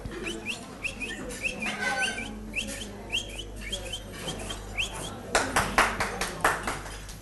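Recorded bird chirping played for a classroom lesson on animal sounds: bright repeated tweets and short calls in quick succession, fairly close, with a burst of clattery noise near the end.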